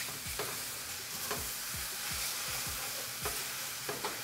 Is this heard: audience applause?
no